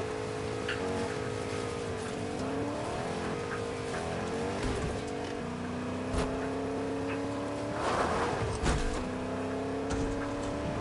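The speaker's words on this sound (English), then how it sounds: "gonna drive my truck around." A truck driven around in the video game Fortnite, its engine humming steadily with shifting pitch as it accelerates and turns, with a few tire squeals and bumps along the way, moderately loud throughout.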